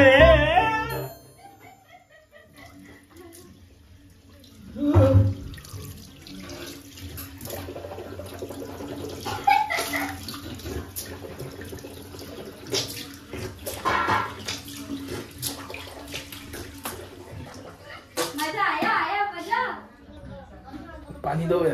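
Water runs from a household tap while something fills, a continuous splashing flow that swells and ebbs, with children and adults talking over it.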